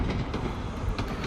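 A train rumbles through Edinburgh's railway station below, a steady low mechanical roar with faint rhythmic clatter of wheels heard from a distance.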